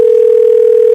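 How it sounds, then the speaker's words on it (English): A steady telephone dial tone, a single unbroken electronic pitch heard loudly and alone on a live sports talk stream, cutting off abruptly at the end. "Is Razor getting a phone call? Somebody else getting a phone call."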